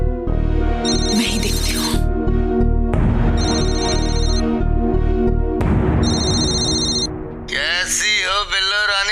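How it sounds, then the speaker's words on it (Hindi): A telephone ringtone sounds in repeated melodic bursts, loud and close, continuing through most of the stretch while someone speaks briefly over it. "ये फोन तो लगातार बज रहा है"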